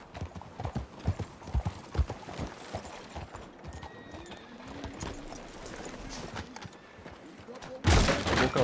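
Horse hooves clip-clop on the ground in the video game Red Dead Redemption 2, a steady rhythmic trot at moderate volume, joined by a loud burst near the end.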